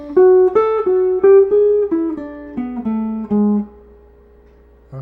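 A jazz guitar plays a quick single-note lick over the chord changes, about a dozen clean, plucked notes that step downward and settle on a sustained final note that fades out alone.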